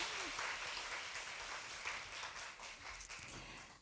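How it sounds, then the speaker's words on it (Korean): Audience applause, a steady wash of many hands clapping at moderate distance, fading slightly toward the end. "박수 한번 주세요."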